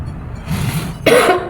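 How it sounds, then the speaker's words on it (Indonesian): A person coughs twice nearby during a meal, a soft cough followed by a louder, harsher one, with no talking. "Masih batuk."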